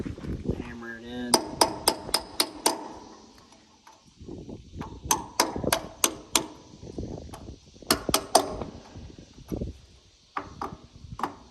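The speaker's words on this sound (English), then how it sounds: "Hammer it in." A hammer drives a small chisel into the axle cap of an old lawn trailer, giving sharp ringing metallic strikes in quick bursts of several blows separated by short pauses, with some background noise between.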